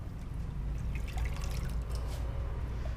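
Tap water runs steadily into a basin as raw chicken is rinsed in a home kitchen, a constant close trickle and splash with no voices.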